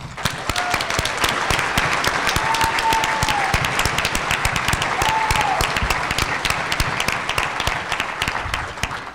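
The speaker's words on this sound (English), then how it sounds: "To that, I believe you all deserve a big round of applause" A graduating class at a 2022 school graduation ceremony is met with sustained, steady applause from a large audience, dense clapping filling the whole stretch with a few faint voices and whoops underneath.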